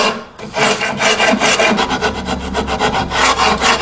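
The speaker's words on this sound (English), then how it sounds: "So I'm going to use a rasp, because around swirly whirly grain like this, a rasp will do a better job." A hand rasp files swirly-grained wood in quick, close back-and-forth strokes, each a loud dry scraping rasp, repeated rhythmically and heard alone.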